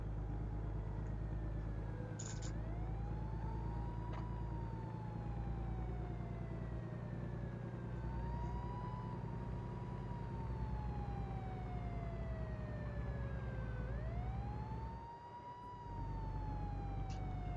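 Police car sirens sweep up and down repeatedly in a modded video game, a steady wailing that carries through continuous engine and traffic drone, with no talking over it.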